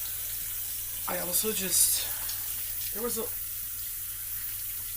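Water runs steadily from a household tap into a sink, a constant close hiss underneath a woman's quiet speech.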